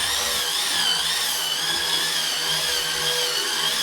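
An electric spin scrubber whirs continuously against shower grout, a steady high-pitched motor whine with a slight wavering pitch, close and alone with no talking.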